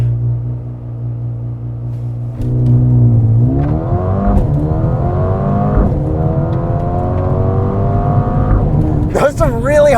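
A Mercedes-AMG A35 hot hatch revs hard in park, its engine climbing through rising harmonics and surging loudly, with people talking briefly over the steady roar.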